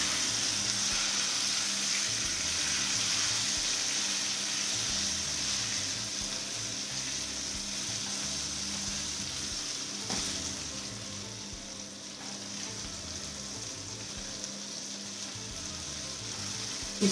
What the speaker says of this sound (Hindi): अब हम इसमें आंवला डालेंगे और इसको थोड़ी देर के लिए पकाएंगे